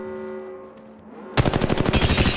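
Loud automatic gunfire from Apex Legends Mobile erupts suddenly after a quiet stretch, a rapid rhythmic burst of shots that continues to the end.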